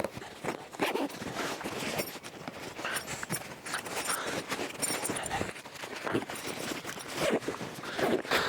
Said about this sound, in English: So it is a double-ended zip, which makes life a little bit easier.